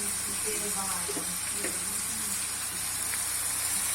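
Shrimp sautéing with garlic and cilantro in a hot pan, a steady, close hiss of sizzling oil that holds throughout, with light stirring clinks and a voice faintly present.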